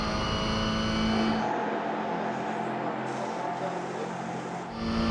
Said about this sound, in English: Johnny goes past there on the inside, and now he'll head off down the long Mulsanne straight, the 2 chicanes these days.